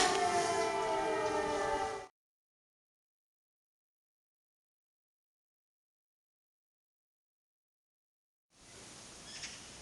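Air raid siren sounding over a city park in the morning, a loud steady wail for about two seconds that cuts off, with distant outdoor noise returning near the end after a long silence.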